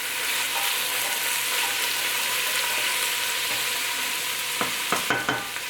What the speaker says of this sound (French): On va faire sauter l'oignon jusqu'à ce que ça devienne jaune, de couleur jaune, qu'il caramélise un petit peu